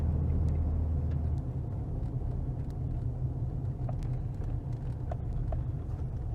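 Steady car cabin rumble on a drive along a country road in Bear Hollow, a continuous low engine and tyre drone with a few light knocks from bumps, no talking.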